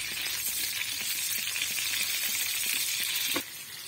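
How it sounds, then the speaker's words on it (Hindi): Slit green chillies frying in hot oil, a loud, steady, close sizzle that crackles continuously and drops off slightly just before the end. "ये जो स्लिट की हुई हमारी हरी मिर्चाएं इसको हम फ्राई करके निकालेंगे"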